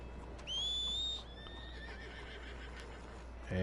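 A horse neighs in the Red Dead Redemption 2 video game, one short high whinny near the start over a low steady background hum, followed by quiet.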